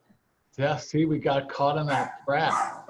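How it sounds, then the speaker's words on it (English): Havanese dogs bark and yip in the background, the sharp barks tangled with and partly masked by a person talking close to the microphone. "I apologize for the dogs in the background."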